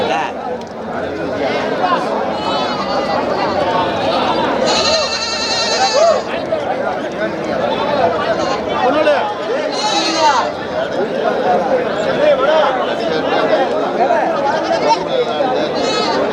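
Goats bleat over the constant chatter of the crowd at the Ettaiyapuram goat market. Two loud, drawn-out cries stand out close by amid the busy outdoor bustle, and people talk nearby throughout.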